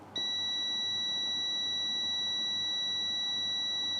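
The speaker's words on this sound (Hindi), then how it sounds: "इसका रेजिस्टेंस कम होने की वजह से ये बीप साउंड करता है" A multimeter in continuity mode gives a steady, unbroken beep while its probes touch a white R020 current-sensing resistor on a mobile phone board. The tone holds loud and constant from start to finish with no talk.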